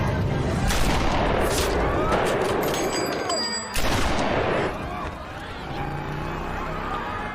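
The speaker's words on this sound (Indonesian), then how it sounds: "kali ini Lee menembak presiden sebanyak 3 kali tembakan" Loud bursts of rifle fire crack in rapid succession, a short lull, then another blast and more shooting echoing through the scene, in the film Killing Kennedy.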